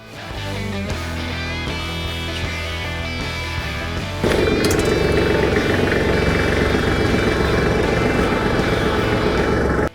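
A Kubota tractor engine, with its front loader just removed, runs loud and close as it reverses, holding a steady droning idle before the revs jump and stay higher for the rest of the clip.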